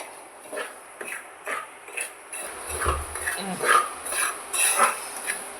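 Semolina (rava) stirred and dry-roasted in a hot pan on the stove, with repeated scraping and clinking of a spoon against the pan coming in short bursts, close and moderately loud, with no talk.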